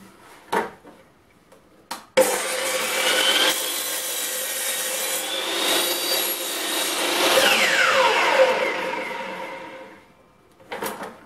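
A miter saw cuts through a wooden workpiece held against the fence and slightly lifted, a loud continuous whining cut of about eight seconds that winds down, with short knocks of handling before and after.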